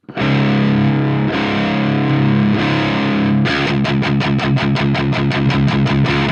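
Electric guitar through a modified Marshall JCM800 with the tight switch engaged, a loud distorted sustained chord that gives way to fast, tightly muted chugging palm-muted riffing.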